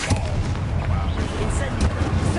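Spell blasts and fiery bursts from Confringo being cast in Hogwarts Legacy, dense booming impacts layered over continuous game combat noise, with a voice speaking over the action.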